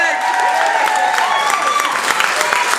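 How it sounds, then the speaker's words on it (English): Wedding guests break into a round of applause after a speech, dense clapping and some cheering from a room full of people, loud and continuous throughout. "Let's have a round of applause again for Min's speech"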